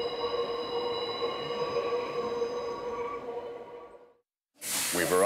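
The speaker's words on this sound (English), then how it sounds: "The train weaves through the rugged terrain towards Mt.Koya" The Tenku sightseeing train climbs through rugged mountain terrain toward Mt. Koya, its steady rumble and hiss running loud and continuous before cutting out, then a sharp burst of noise returns at the end.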